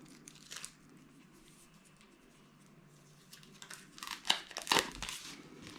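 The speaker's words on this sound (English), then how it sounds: "now let's remove all the stickers" Protective stickers peeled off a new NIU KQi2 Pro electric kick scooter during unboxing: soft crinkling and tearing rustles, quiet at first, then a louder cluster of ripping and crackling bursts near the end, close by with no talk.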